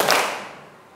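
Primary school students in a classroom clap game strike one crisp group clap together, a sharp single hit that rings briefly in the room and fades within a second.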